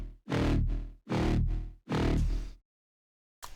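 Three loud, gritty distorted tearout synth bass notes made in Serum 2, with bright buzzing overtones, each trailing off, followed by a gap and a short delay echo return.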